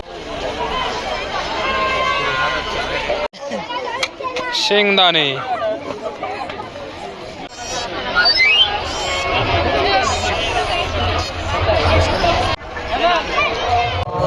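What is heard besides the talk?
large crowd at Agasti temple on Mahashivratri evening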